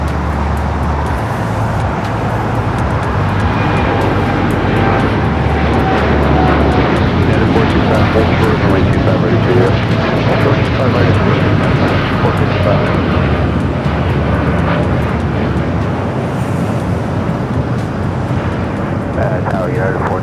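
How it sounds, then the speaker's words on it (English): A Boeing Dreamliner jet departs LAX bound for Newark, a loud, steady, broadband engine roar that fills the whole stretch, with faint traffic noise mixed in. "Dreamliner heading to Newark."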